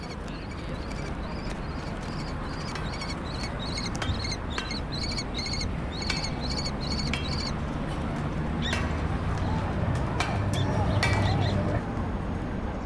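Jackdaws and kestrels sharing an urban nesting site call in repeated high chirps and squeaky bursts over a constant low city hum, moderately near.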